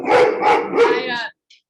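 A guard dog barks loudly and close by, three or four rapid deep barks blending into a strained, voice-like yowl before stopping.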